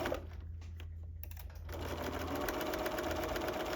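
A serger runs steadily, stitching along a fabric edge for a pouch, its fast mechanical whir starting quietly and growing louder and continuous after the first second and a half, close up and alone.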